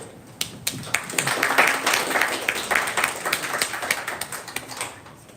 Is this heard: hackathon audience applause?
yes